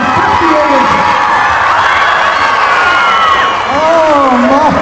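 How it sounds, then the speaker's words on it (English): A crowd at a dog high jump competition cheers and whoops loudly and continuously, with children's shrill shouts and rising yells mixed into the roar. "Ladies and gentlemen, start cheering. Start chanting."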